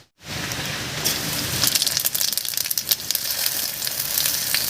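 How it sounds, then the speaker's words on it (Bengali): Whole cumin seeds and two bay leaves crackle and sizzle in hot mustard oil in a wok, a dense, steady frying hiss with sharp pops throughout, loud and close, no voices. "তেল গরম হয়ে গেছে তেলের মধ্যে দেব এক চামচ গোটা জিরা আর দুটো তেজপাতা"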